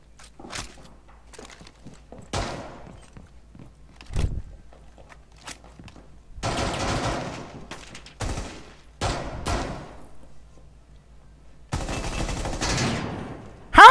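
Bursts of automatic gunfire from the video game Rainbow Six Siege, heard as several separate volleys of rapid shots with quiet gaps and faint footsteps between them, loud and close, with no talk over them.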